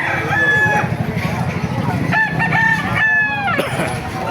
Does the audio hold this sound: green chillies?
no